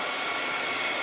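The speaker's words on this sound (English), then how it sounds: "You have to use a heat tool. It gets a lot more hot than a hairdryer." An embossing heat tool blows a loud, steady roar of hot air for a card-making project, a constant hairdryer-like whoosh held close with no other sounds.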